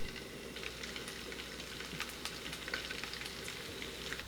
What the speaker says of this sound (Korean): 기름을 두르고 분홍 소세지를 올려요